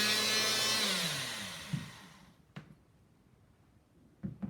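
Enerpac hydraulic cutter shearing through a bar: a loud, smooth mechanical whir fades out over about two seconds, followed by a few short clicks and knocks as the tool settles.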